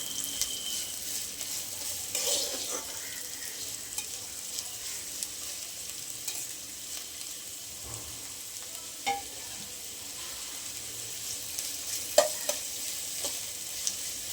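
Finely chopped onion with green chillies sautéing in a pan, a steady soft sizzle running throughout with occasional spoon scrapes and stirring taps, fairly close and moderate in level, no talking.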